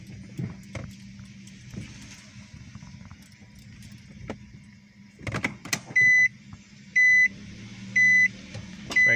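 A car with an accelerator pedal sensor fault and loss of power idles at low RPM as a low, steady hum. Keys jangle over it, and four loud, evenly spaced warning beeps sound near the end.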